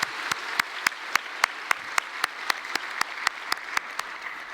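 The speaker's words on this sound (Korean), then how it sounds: "우리 한번 크게 박수 한번 하겠습니다" A church congregation at a Sunday service claps in a steady, even rhythm, sharp evenly spaced claps repeating for several seconds at moderate loudness.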